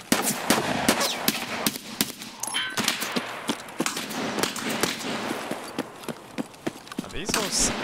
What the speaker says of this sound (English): Are these all scabs shooting him?